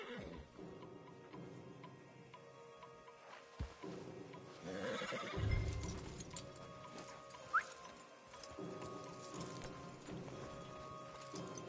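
Horses in the Red Dead Redemption 2 video game whinny once or twice and clop along amid a layered game soundscape, with faint dialogue in places.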